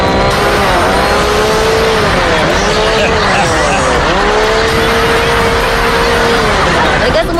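A car turns around on a street, tires squealing and skidding loudly and close, with a sustained engine roar and wavering screech; voices are heard faintly in the background.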